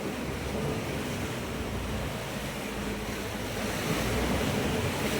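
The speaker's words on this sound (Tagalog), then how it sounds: "naharap kami sa alon" Ocean waves roar continuously with heavy wind buffeting the microphone, a loud, unbroken rush of surf and spray, heard from a fishing boat at sea.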